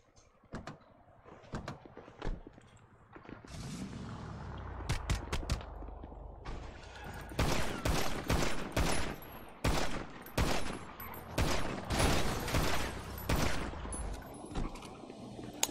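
Repeated sharp bursts of gunfire from GTA V, first in scattered single shots and then in dense rapid volleys with mechanical clicks between them, loud and close.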